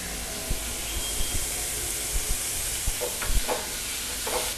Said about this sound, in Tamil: நல்லா சிம்மில் வச்சுட்டு நல்லா வதக்கிக்கோங்க